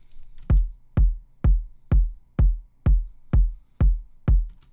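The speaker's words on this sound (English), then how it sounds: "And without any effects, the kick sound like this." A dry, deep kick drum with no effects, in a Propellerhead Reason track, thumps eight times at an even, moderate pace, each hit boomy and short with nothing else around it.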